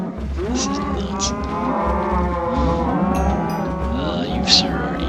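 Cattle in Minecraft low continuously in drawn-out, overlapping moos, loud and close, with no talk over them.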